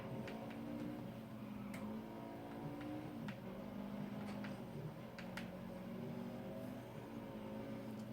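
A car in a racing video game drifts against a Ford Escort, its engine a steady droning hum with low tones that rise and fall. Faint clicks show up now and then over a fairly quiet background.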